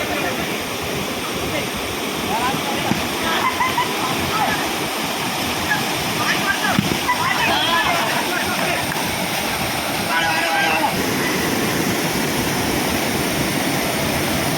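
A small waterfall near a temple gives a constant broadband rush of falling water, loud and close, with faint voices underneath.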